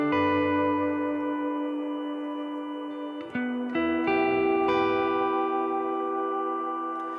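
An electric guitar plays through a BOSS shimmer pitch shifter, sustained chords ringing with bright, octave-shifted harmonics and a lush reverb wash, with a few new strums layering in midway before everything rings out.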